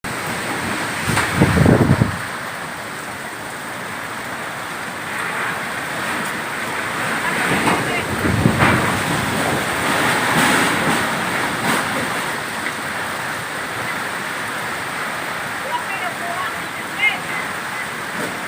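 Strong typhoon wind roaring steadily outdoors, rising in heavy gusts with a constant rushing hiss; faint voices underneath.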